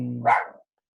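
A small female dog indoors lets out one sharp, close bark that cuts off abruptly into silence.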